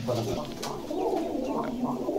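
Pigeons for sale at a market coo in soft, continuous throaty rolls nearby, blending with a murmur of voices in the background.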